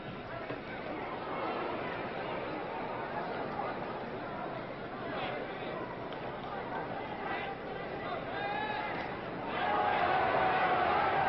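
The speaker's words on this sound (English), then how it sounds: "The crowd gave a little flurry of applause there." Boxing arena crowd at the Floyd Patterson vs Brian London bout, 1959, a steady murmuring hubbub that swells briefly into a short flurry of applause and cheering near the end.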